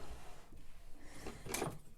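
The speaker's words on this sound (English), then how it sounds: "Digging in my secret drawer for the foam tape." Someone rummages through a drawer for foam tape during a crafting session, with soft low knocks and rustling followed by a sharper clatter of items shifting, close and fairly quiet.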